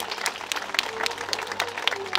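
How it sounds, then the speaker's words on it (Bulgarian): Applause from guests at a Bulgarian civil wedding ceremony, a brief burst of scattered hand clapping right after the bride's vow, steady and moderately near with no voices over it. "Аплодисменти!"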